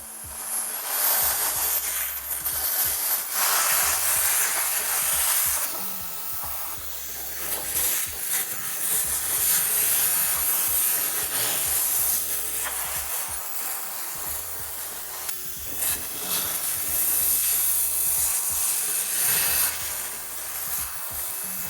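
A small cordless desk vacuum cleaner runs steadily for the whole stretch, a loud continuous hissing whir with slight shifts in pitch and a few rubbing bumps as it moves over a desk.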